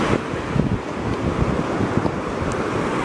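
Ocean waves washing onto a beach on a chilly morning, a steady broadband roar of surf with gusting wind buffeting the microphone throughout, no voices.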